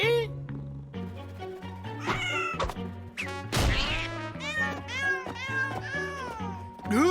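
A cartoon cat meows repeatedly over layered music, its rising and falling cries loud and close, with a thump partway through.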